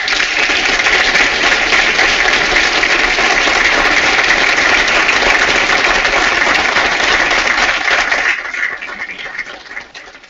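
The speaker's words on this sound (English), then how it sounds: "Let's give them a round of applause." An audience at a Union County Public Schools board meeting applauds a student team with a steady, dense wash of clapping that lasts about eight seconds before tapering off.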